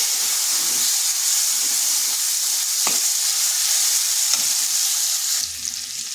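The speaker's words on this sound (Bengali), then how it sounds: "দিচ্ছি একটা ছোটো সাইজের আলু আলুটাকে ওইভাবে ছোটো ছোটো করে কেটে নিয়েছি" Small diced potato pieces fry in a hot pan with a loud, steady sizzling hiss, a couple of brief stirring scrapes breaking through, close up and with no voices, easing slightly near the end.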